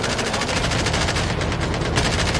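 Automatic gunfire aimed at zombies in Call of Duty Mobile, a video game: a loud, unbroken stream of rapid shots lasting the whole stretch, close and heavy, with no talk over it.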